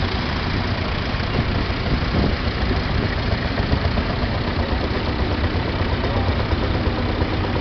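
Hydro 84 tractor engine idling close by, a steady, loud, rough mechanical rumble with a constant chugging texture throughout and no voices.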